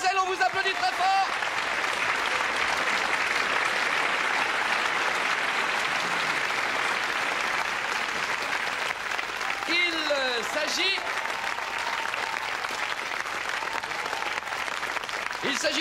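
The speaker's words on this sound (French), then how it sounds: "mademoiselle, on vous applaudit très fort." A television studio audience claps loudly and steadily throughout, a sustained burst of applause with some brief whistles or cheers partway through.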